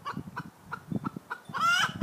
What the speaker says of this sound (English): I'm surrounded in chicken.